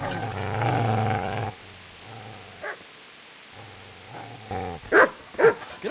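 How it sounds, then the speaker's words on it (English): A dog in the medieval video game Kingdom Come: Deliverance growls low and then barks in short, sharp bursts at close range, with a sustained snarl at the start followed by scattered yips and barks. "Get away, you mutt!"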